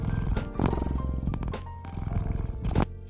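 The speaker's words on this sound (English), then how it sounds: "A happy cat purrs." A contented cat purring, a continuous low rumbling with pulsing breaths in and out, steady and close with no talking.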